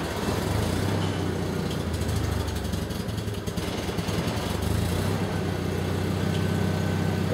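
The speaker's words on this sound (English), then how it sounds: "now we have our generator running." A generator on a food trailer starting up and running, a steady loud engine drone with a constant low hum and no break, close by, with no talking.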